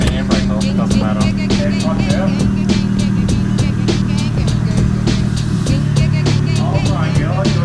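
A restored abandoned Toyota Soarer with a 1JZ turbo engine driving off: a loud, steady engine drone and rumble runs throughout, with excited voices talking over it close by.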